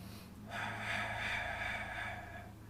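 One slow, deep breath drawn audibly through the nose during a seated Pilates stretch, swelling after a brief quiet moment and then fading, close and soft, with no talking.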